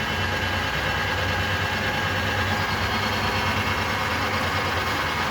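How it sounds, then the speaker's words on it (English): A Harrison M390 geared head gap bed engine lathe running with a steady, loud mechanical drone and hum, constant and unchanging throughout with no speech. "that concludes the inspection of the Harrison M390 engine lathe"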